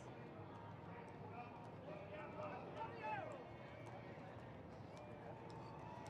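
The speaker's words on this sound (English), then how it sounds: "And looky there, Joey Pettigo looking so good up there on his horse." Horse hooves clip-clop at the Houston Rodeo Parade in 2024, a faint, steady patter buried in crowd noise and a commentator's voice that runs throughout.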